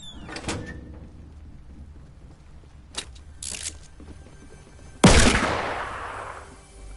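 Fortnite gunshots inside an indoor space: a few scattered sharp cracks early on, then one loud, close blast that rings out and decays over a couple of seconds.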